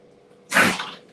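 A single short, sharp sneeze bursts out close by against quiet background.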